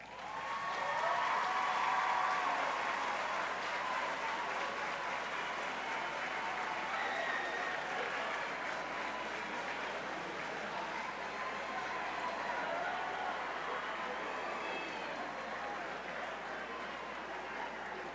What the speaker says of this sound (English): Graduates, please turn around and give a round of applause to your family.